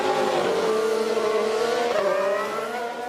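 Ferrari SF70H Formula 1 car pulling away from the pit lane after a simulated pit stop, its high-pitched engine note loud and close, holding a steady droning whine for a few seconds before easing slightly.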